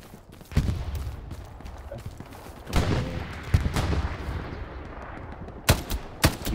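Gunfire in the Hell Let Loose game: scattered single rifle shots and short bursts, some close and sharp, others more distant, with a cluster of rapid cracks near the end.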